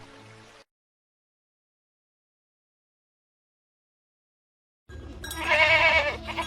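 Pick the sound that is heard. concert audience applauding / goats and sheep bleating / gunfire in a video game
goats and sheep bleating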